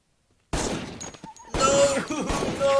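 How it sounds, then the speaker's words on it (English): A burst of rapid gunfire erupts on a film soundtrack in a tense scene from Drive, loud and chaotic, following a brief silence and mixed with shouting. "I was just expecting a gunshot there"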